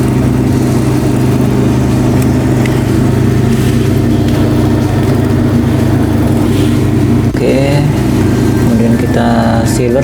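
A sealing machine with a roller wheel runs as a continuous, loud mechanical hum, crimping the edges of a small coffee sachet.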